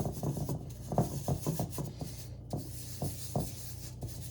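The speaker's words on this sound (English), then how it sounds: "And I rub it on both sides" Gloved hands rub seasoning onto raw pork chops, making faint, close, irregular rubbing and rustling strokes in short bursts with quiet pauses between them.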